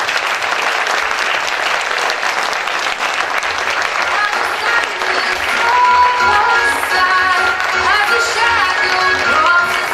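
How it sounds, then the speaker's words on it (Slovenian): A large audience at a birthday celebration event applauds loudly to welcome a speaker onto the stage, a dense, unbroken roar of clapping that holds steady throughout, with some voices and a little music faintly underneath. "bomo najprej z bučnim aplavzom na oder povabili Steva Lomljanskega"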